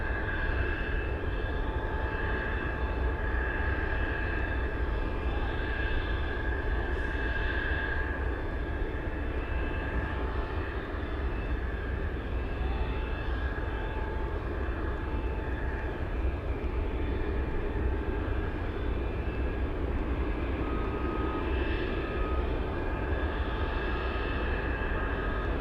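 A Boeing 747 cargo jet approaching to land on runway 15 in gusty winds at Anchorage sends out a steady broad engine roar with a faint high whine, distant and unbroken throughout.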